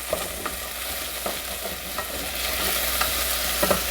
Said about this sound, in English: The potatoes are sizzling in here, and you just like stir them around